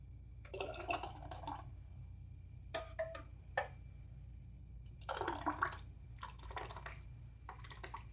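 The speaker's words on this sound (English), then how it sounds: "we're gonna keep filling these jars" Tomato basil soup being ladled into glass canning jars, with intermittent clinks, pours and wet splashes in short bursts over a low steady kitchen hum, close and fairly quiet, with no talking.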